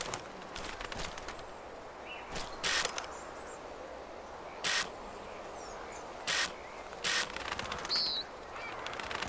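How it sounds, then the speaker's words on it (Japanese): Wild birds call outdoors in Africa, a brief clear chirp and scattered calls rising over steady ambient noise, with a few short bursts of rustling or footsteps in the foreground. "鳥おるわ、鳥おるわ。"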